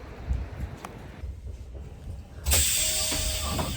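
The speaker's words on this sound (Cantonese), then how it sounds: "我哋誤打誤撞上咗架好老嘅火車" An old, slow local train, around 30 years in service, runs through Niigata, Japan, with a steady close rumble that swells into a louder hiss partway through, joined by a thin mechanical whine.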